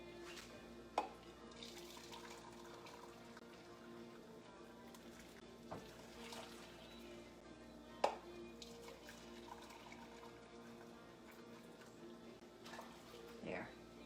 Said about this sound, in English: Yes, 3 cups of boiling water.